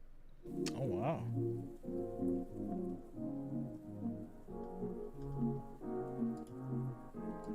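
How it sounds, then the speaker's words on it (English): Light rain falls outdoors in Kansas City, Missouri, on a cold day after snow and sleet, ahead of an AFC playoff game; a steady soft patter runs throughout beneath continuous talking. "We've gone from snow to sleet to now a little bit of rain"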